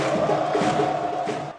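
A stadium crowd of football fans roars steadily in celebration of a goal at a Série C match, a broad continuous wall of cheering that fades slightly at the end.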